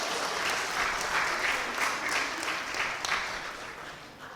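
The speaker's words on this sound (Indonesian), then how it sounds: "Tepuk tangan dulu." A congregation claps at a church wedding blessing, dense steady applause from many hands filling the room for several seconds, moderately close, with no talk over it.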